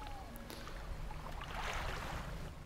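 A small fishing boat heads out at night in the video game Dredge, a soft steady engine drone mixed with lapping water and wind, faint and continuous with no talking.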